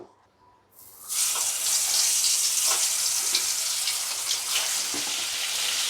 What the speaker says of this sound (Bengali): পটলগুলো এবার ভাজবো।